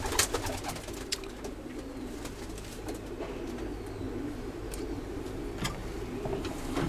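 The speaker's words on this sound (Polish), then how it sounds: "Są to gołębie z naszych najlepszych linii hodowlanych." Young racing pigeons coo repeatedly in a loft, soft close throaty calls recurring throughout over a steady background hum, with occasional sharper chirps and clicks.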